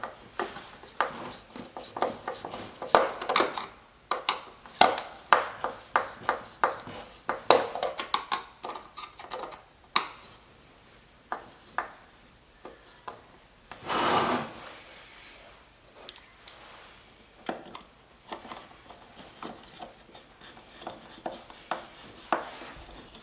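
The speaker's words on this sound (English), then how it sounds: "Grab one of our screws and just screw that in." A screw is turned into the side mounting tab of an LED headlight from a 2012-2014 Mercedes-Benz CLS 550/63 AMG. Close, repeated scraping clicks come in uneven bursts, with one longer grinding stretch midway.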